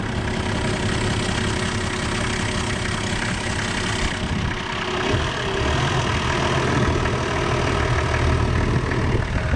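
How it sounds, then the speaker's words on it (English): An old motor engine idles steadily, a close, loud, even rumble with a slight knocking rhythm that holds throughout without any voices. "How sweet's that old motor sound?"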